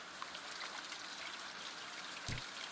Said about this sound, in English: Hey, did you just turn on the water?